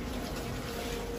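Steady rushing of water pouring out of an old 20-year-old air cooler during a repair, a continuous broadband flow that stays close and even throughout with no voices over it.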